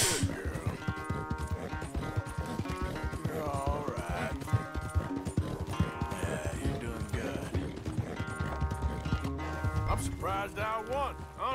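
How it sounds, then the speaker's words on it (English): Galloping horse hooves in the Red Dead Redemption 2 video game, a rapid rhythmic drumming that runs throughout, mixed with game music and a voice talking over it. "Damn horse acting up on me of all the times"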